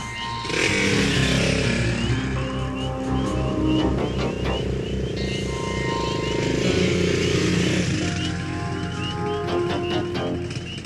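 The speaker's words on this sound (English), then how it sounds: "this motorcycle will be waiting for him" A motorcycle engine runs steadily and loudly up close, its buzzing drone shifting slightly in pitch as it idles and revs.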